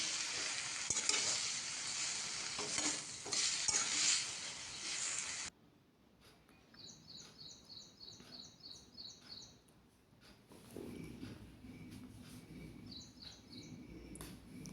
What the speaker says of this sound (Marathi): तर चांगली भाजी परतून घ्यायची आहे।